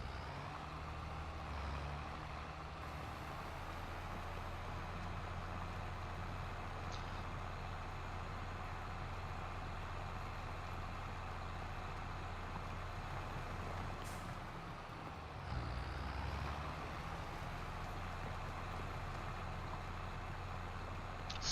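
A tractor engine in the Farming Simulator 22 video game, a steady low diesel drone that holds throughout with a brief dip and swell near the end, with no talking.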